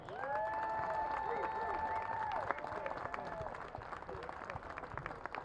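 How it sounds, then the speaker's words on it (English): Crowd applause in the stands at a high school football game, a broad wash of clapping and cheering under a sustained musical tone, steady throughout. "please give them all a big round of applause"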